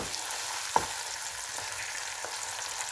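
Finely chopped onions frying over a medium flame for a mutton and potato curry, a steady soft sizzle with a faint stirring clink and a couple of light scrapes.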